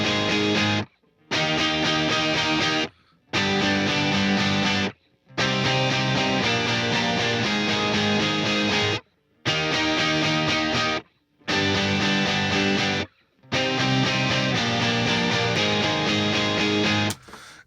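Layered electric guitar parts spread center, left and right, a dense distorted wall of sound playing in repeated phrases broken by several short full stops, loud and close with no talking.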